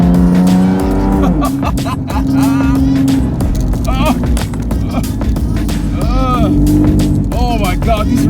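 A Nissan 370Z driven hard through corners on narrow mountain roads: loud, close engine revving that rises and falls with shifts, alongside tire noise, while the driver talks excitedly over it.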